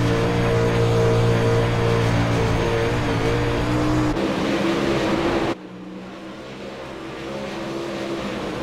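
UMP modified race car engine roaring at full throttle in the video game Real Racing, a loud, steady high-revving drone that shifts pitch, then drops abruptly to a quieter, lower engine note before building again.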